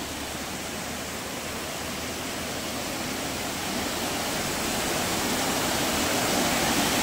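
Steady roar of a monsoon waterfall in Chandranagar village near Dapoli in the Konkan, a dense broadband rush of falling water that swells slightly louder toward the end, with no voices.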